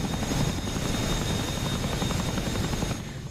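Helicopter in the DCS World flight simulator, a loud steady rotor and engine drone with a pulsing beat, continuous throughout and easing slightly toward the end.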